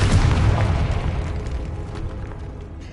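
A Confringo spell blast in the Hogwarts Legacy video game: one loud, deep booming explosion at the start that rolls off into a long rumbling decay, with no voices.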